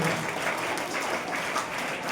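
Applause from an audience at a high school prize-giving, as students who won scholarships in an exam come forward. The clapping is dense, steady and fairly loud, running continuously throughout.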